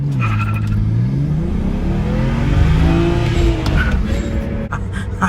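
A BMW 335i with manual gearbox, converted to rear-wheel drive, launches hard from a dig, its engine loud and close, revving and rising in pitch through continuous hard acceleration with a brief shift dip near the end.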